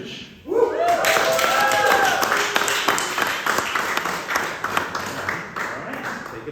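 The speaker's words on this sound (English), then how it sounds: "So let's have a round of applause for Eva Petric." A gallery audience at an art talk breaks into applause for the artist, scattered claps rising after a brief voice and continuing as a moderate, uneven round.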